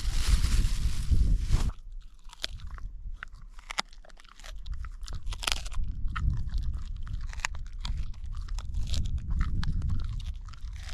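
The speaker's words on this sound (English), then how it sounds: "That is amazing how dogs can just chew up bones like that and just swallow the lot and digest the lot." A dog chews and crunches bones at a wild camp in the Lake District, with a close, steady run of sharp cracks and wet chewing.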